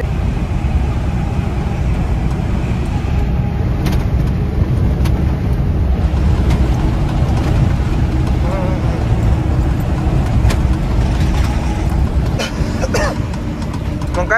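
Truck engine driving on an open highway, with a loud, steady road and engine roar throughout and no clear change in pitch. A few faint knocks and rattles sit over the drone.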